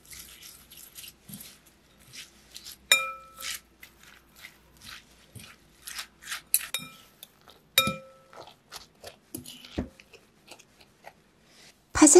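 Two eggs, a spoonful of tuna sauce and shredded cabbage are mixed together in a bowl, giving scattered clinks of a utensil against the bowl with a few sharper taps, close and fairly quiet, with no talking.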